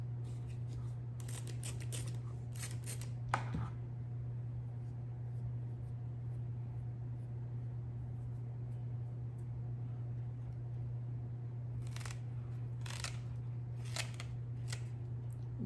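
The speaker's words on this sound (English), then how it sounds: "So I think I'll have to cut this." Scissors snip a phalaenopsis orchid in several short, crisp clicks up close, one early cluster and another near the end, over a steady low hum in an otherwise quiet room.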